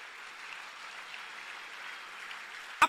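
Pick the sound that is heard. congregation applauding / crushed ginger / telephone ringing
congregation applauding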